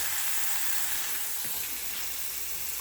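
Food sizzles and fries steadily in a pan for a tortellini salad, a constant bright hiss close by with no pauses.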